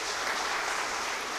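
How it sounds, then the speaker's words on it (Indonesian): A church congregation gives a brief burst of steady, crowded clapping for Jesus Christ during a sermon. "Tepuk tangan untuk Yesus Kristus Tuhan kita."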